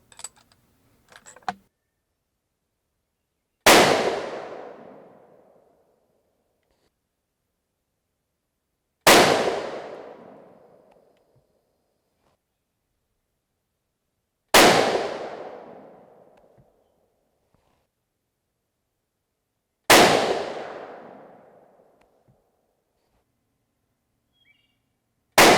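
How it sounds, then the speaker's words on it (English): Four loud, sharp rifle shots from a Remington 700 BDL Varmint Special in .223 Rem, evenly spaced about five seconds apart, each a close crack with a fading echo, quiet between them. "That's not too bad for the first 5 shots."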